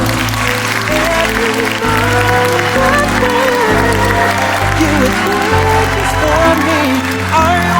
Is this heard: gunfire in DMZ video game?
no